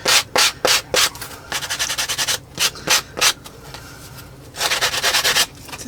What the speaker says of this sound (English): And then I'll just take sandpaper or a sanding block.